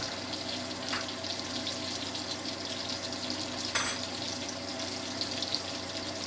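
Sausage frying in oil in a pan gives a steady, dense sizzle with crackling throughout, plus a couple of slightly louder pops, close and continuous, with no talking.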